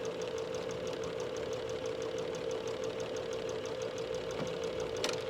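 A domestic sewing machine runs steadily, stitching three stitches forward and three back along a fabric seam, with a continuous rhythmic motor hum and needle clatter and a brief click near the end.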